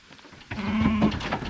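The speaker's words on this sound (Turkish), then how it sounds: "kuzularımızı da kendi koyunlarımızın yanına getirmiş bulunmaktayız" A single lamb bleats loudly nearby in a flock of sheep, a wavering cry lasting about half a second, with quieter farmyard rustling around it.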